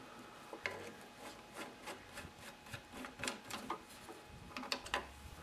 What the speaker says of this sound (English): you'll need to reach down inside here to remove the two Phillips screws that hold the carburetor